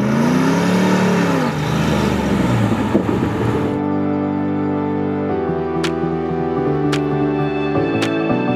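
A Land Rover Defender 110's LS3 V8 engine, rated 565 horsepower, revs loudly, its pitch sweeping up and down before settling into a steady, throaty idle.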